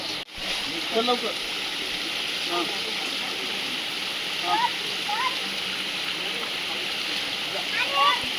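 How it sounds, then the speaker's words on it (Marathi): Continuous rushing of a small rain-fed waterfall in Sandhan Valley, with voices talking intermittently over the flowing water. "तो आहे छोटासा धबधबा सुरू झाला आहे ना"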